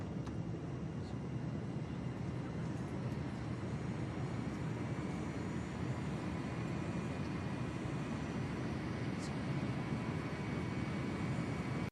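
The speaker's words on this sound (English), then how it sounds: "In the airplane, when you hear the engines tick on" Airplane engines running inside an aircraft cabin, a steady broadband roar and hum that stays constant throughout, heard from inside with no talking.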